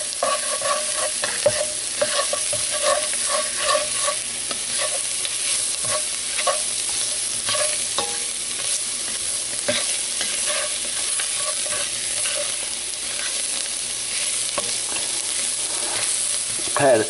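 Flour stirred into hot pan juices for catfish courtboullion, a steady crackling sizzle with continuous scraping and tapping from the spoon, close and even throughout with no talk.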